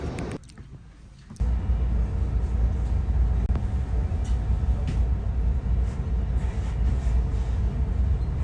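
Inside a German regional train running from Munich toward Eibsee, a steady rolling rumble and rattle fills the carriage. It follows a short quieter stretch at the start.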